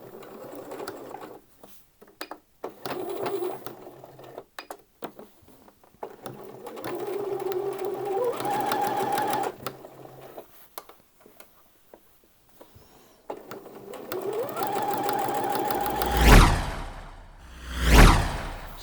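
A sewing machine stitches the inside leg seam of wrap trousers in several bursts of fast, even whirring separated by pauses and handling clicks, then ends with two louder, sharper runs.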